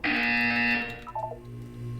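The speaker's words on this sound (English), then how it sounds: "When you hear the buzzer, look up at the ceiling." A harsh electronic buzzer from the Portal 2 video game blares loudly for under a second, then cuts off, leaving quieter tonal game sounds in the background.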